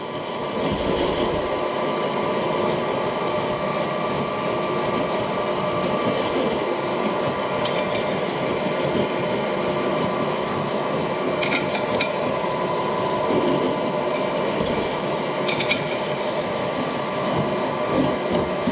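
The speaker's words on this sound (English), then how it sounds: "Now I've got the boring head on. I got to enlarge this to 1 inch 400 thousandths to go on my saw arbor." Boring head on a milling machine enlarging the bore of a flat belt pulley, a loud, steady machine drone and whirring cutting noise that continues without a break, with faint intermittent squeaks.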